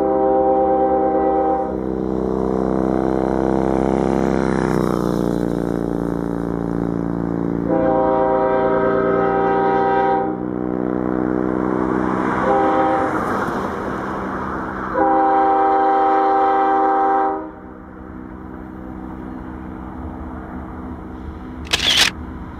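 Union Pacific freight train led by a GE locomotive, once in GE demonstrator paint and now in standard Union Pacific colors, sounds loud, close horn blasts over heavy rumble, then the horn stops and a quieter rolling rumble with a brief click follows.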